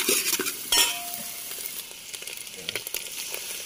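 Cabbage, green chili and coriander sizzle as they are stir-fried in a pan outdoors, with steady frying hiss and scattered scrapes and clinks of a utensil against the metal.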